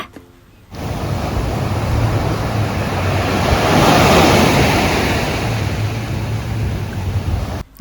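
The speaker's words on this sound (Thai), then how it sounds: "เราลองมาชมบรรยากาศและฟังเสียงคลื่นกระทบฝั่งกันนะคะ" Sea waves breaking on a resort beach shore at Cha-Am, a loud continuous wash of surf that swells to a peak and eases back, mixed with wind buffeting the microphone.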